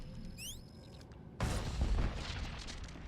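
A single explosion erupts in Star Wars: The Old Republic, a sudden loud, close blast following a few quiet electronic chirps, then a rumbling, crackling decay that lingers for over a second.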